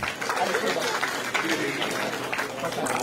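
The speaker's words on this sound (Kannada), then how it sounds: "ನಮ್ಮೆಲ್ಲರ ತುಂಬು ಪ್ರೀತಿಯ ಚಪ್ಪಾಳೆಗಳ ಮುಖೇನ ವೇದಿಕೆಗೆ ಆಹ್ವಾನಿಸೋಣ" An audience at a felicitation for a returning Booker Prize–winning author claps as a guest is invited onto the stage, a brief, dense wash of applause beneath an ongoing voice.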